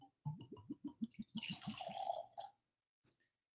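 Stranahan's Colorado whiskey, the original release, is poured from a freshly uncorked bottle: a quick series of close, rhythmic glugs gives way to a short smooth stream into the glass, then a faint final drip after a pause.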